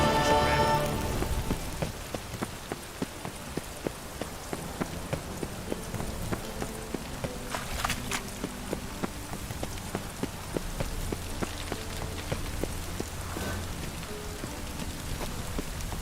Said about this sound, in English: I like rain. Keeps the rogues indoors.